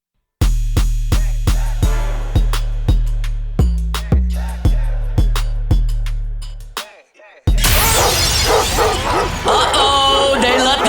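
A big dog barks in a steady series of about a dozen sharp, loud, close woofs, followed by a brief gap and then a noisy burst of crowd or effect sound.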